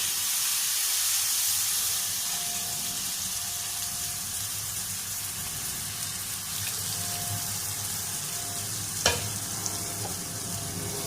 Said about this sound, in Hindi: अब डालेंगे हम मठा जो हमने बनाया हुआ था।